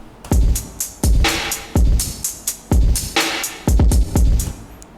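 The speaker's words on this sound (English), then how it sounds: "One is the high end, so the high end sounds like this." A high-end kick drum sample layered into a hip-hop beat, thumping in a repeating loop roughly once a second, with punchy clicky attacks, quick pitch-dropping tails and sharp noisy hits between, loud and alone.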